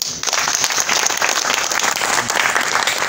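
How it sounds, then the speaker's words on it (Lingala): Sustained applause from a gathered audience at a UDPS party meeting honoring committee member Constance Boula, loud overlapping clapping filling the whole stretch without pause. "on peut l'applaudir"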